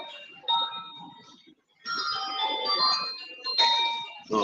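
A drive-thru arrival chime at a cafe rings out in short, bright tonal bursts that repeat several times over a few seconds, mixed with faint background chatter.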